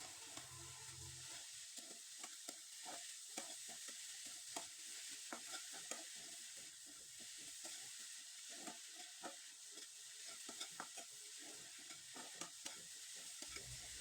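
Coconut and jaggery filling stirred in a wok for a chira pitha, a steady scraping and clacking of the spoon over a soft continuous sizzle, close and even for the whole stretch with no voices.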